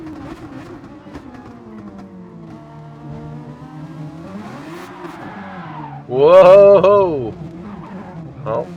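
Race cars in a Super Formula racing video game at Suzuka, engines droning and tires sliding, with a louder surge of revving and squeal near the end, under excited commentary.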